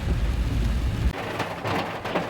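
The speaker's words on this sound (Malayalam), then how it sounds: "അടിപൊളി മഴയാണ്" Heavy rain falls in Karuvanchal town, a dense steady hiss of rain on surfaces that runs without a break, with deep rumbling under it and some patter on a nearby surface.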